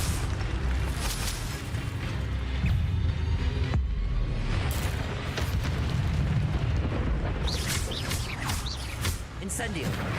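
Continuous roaring, crackling fire from the Incendio spell fills the air in Hogwarts Legacy, with dense rumbling bursts and bright sizzles overlapping throughout and someone talking over it.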